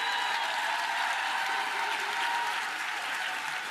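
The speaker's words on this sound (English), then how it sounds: "I give y'all self a round of applause." An audience applauds continuously with dense, even clapping that stays steady and loud throughout, with no voices standing out.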